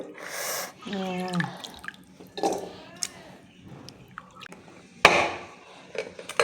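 Fruits are rinsed in a basin of water, with a few scattered splashes and drips breaking through while a person talks over the washing.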